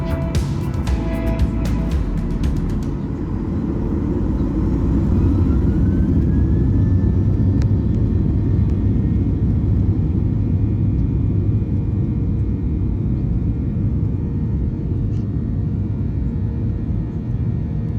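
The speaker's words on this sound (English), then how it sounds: "we pushed back to taxi our way out to the runway for takeoff." An airliner departing Wrocław taxis toward the runway and then takes off, a loud continuous jet engine roar building and holding steady from inside the cabin, with brief rattles early on.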